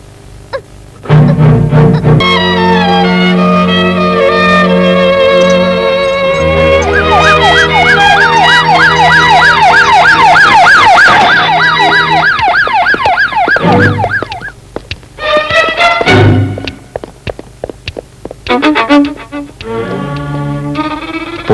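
Loud wailing police siren in a Tamil film scene, sweeping and warbling continuously for over ten seconds with layered tones, then breaking into choppy bursts before resuming near the end.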